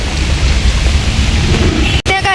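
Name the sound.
heavy rain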